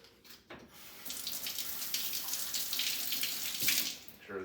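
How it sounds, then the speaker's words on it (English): Water run through the top of a disassembled paint sprayer gun during cleaning, a steady rushing tap-like flow that starts after a brief pause and continues fairly loud to the end. "I just like to run water through this."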